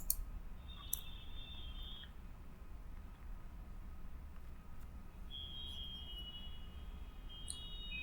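A computer mouse gives a few sharp, close clicks over a steady background hum, spaced apart by quiet pauses.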